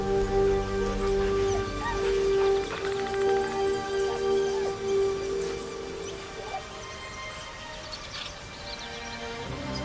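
A dog in the video game Baldur's Gate 3 gives soft whimpers and short yips over a steady sustained game music tone, moderately loud and close throughout.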